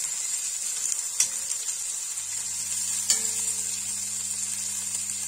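Sliced onion sizzling in a dry pan with no added fat, a soft continuous hiss with a couple of faint clicks and a low hum underneath, heard alone without speech.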